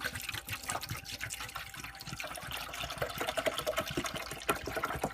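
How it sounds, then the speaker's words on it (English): Descaler liquid pours into the water tank of a Saeco Odea Giro Plus espresso machine, a steady trickling, splashing fill with small gurgles, close and moderately quiet throughout. "I'm going to fill up the water tank here with descaler"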